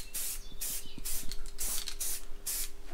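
An aerosol can sprays paint onto Citroen Dyane/2CV shock absorbers in a series of short hissing bursts, about seven quick spurts close to the microphone, with faint clicks between them.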